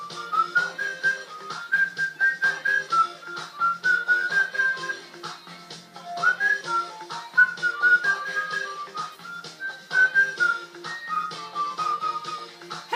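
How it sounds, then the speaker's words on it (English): A person whistles a lilting melody in short rising and falling phrases, steady and clear over a faint low hum of background music. "who told you I could not whistle?"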